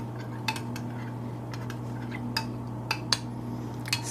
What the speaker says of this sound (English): Stirring, stirring, stirring the oil